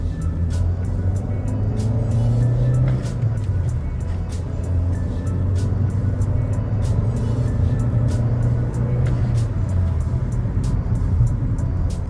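Skoda Octavia A MPI petrol car on a test drive, a steady low engine and road rumble heard from inside the cabin, continuous and fairly loud with a faint ticking throughout.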